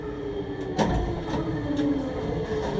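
A Lille metro line 1 train, set HP 109, runs along its route with a steady rumbling hum, tonal motor whine and faint rattles, heard from inside the car, no talk.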